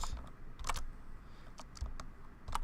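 Keys clatter on a computer keyboard while a formula is entered into an Excel spreadsheet, a quick irregular run of clicks, close and moderately loud with no talking.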